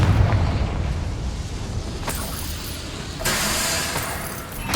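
A Confringo spell in Hogwarts Legacy goes off in a muffled explosive burst, followed by a rumbling aftermath and a second sharp crackle, set against a dense, noisy game soundscape.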